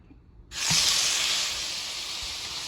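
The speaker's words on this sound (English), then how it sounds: "gonna heat up a grill pan super hot and take the steak out, sear a couple minutes each side" Steak dropped onto a very hot grill pan, with near silence giving way to a sudden loud, hissing sear that holds steady and eases slightly over the next two seconds.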